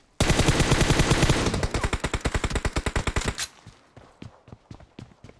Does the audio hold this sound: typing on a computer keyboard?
no